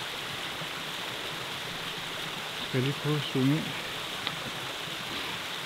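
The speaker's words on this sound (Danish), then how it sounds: "Så her er vandfaldet." Steady broadband rush of a mountain waterfall in the Swiss Alps fills the scene at moderate distance, constant throughout, while a person speaks briefly over it near the middle.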